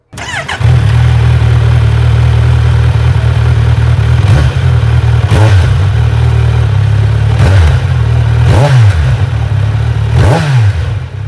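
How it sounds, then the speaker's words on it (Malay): A 2025 Kawasaki Z900 inline-four motorcycle idles loudly with a low exhaust throb, punctuated by about five sharp throttle blips spaced a couple of seconds apart. "Korang dengar tak bunyi exhaust dia?"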